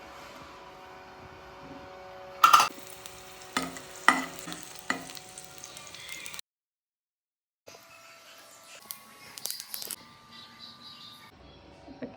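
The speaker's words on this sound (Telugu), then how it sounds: "ఫస్ట్ మిర్చి ఫ్రై చేసుకోవాలి" Slit green chillies fry in hot oil in a home kitchen, giving a soft steady sizzle with a few sharp crackles and spatters, then a brief pause before the frying resumes.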